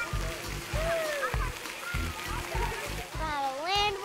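Children splash and play in water outdoors. Repeated close splashes and sloshing mix with continuous kids' chatter and voices.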